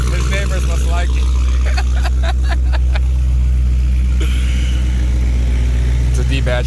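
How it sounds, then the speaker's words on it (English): A D-badged Dodge Hellcat sits with its engine running in a loud, deep, steady rumble that dominates throughout, while people talk over the noise. "It's a D-badged Hellcat."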